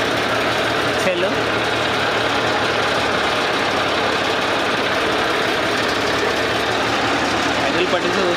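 A Massey Ferguson 241 tractor engine idles with a steady, continuous low rumble and even throb, loud and close throughout.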